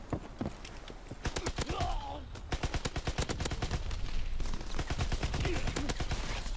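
Video game gunfire rattles almost nonstop in rapid automatic bursts and single cracks, loud and close, with a brief lull near the start before the shooting resumes.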